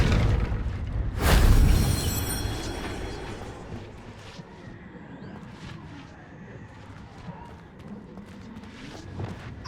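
A Confringo blasting spell explodes in the Hogwarts Legacy video game: one sharp, loud burst that booms and then rumbles away into lower in-game background noise.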